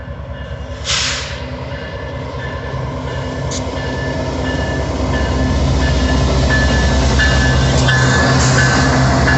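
A Canadian Pacific freight train led by a gray KCS de Mexico locomotive rolls past close by, a loud, building rumble of wheels and cars with a brief sharp screech near the start and steady clatter throughout.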